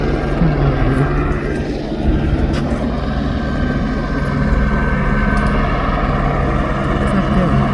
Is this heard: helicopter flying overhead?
yes